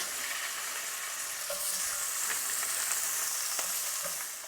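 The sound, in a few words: pork belly browning in a pan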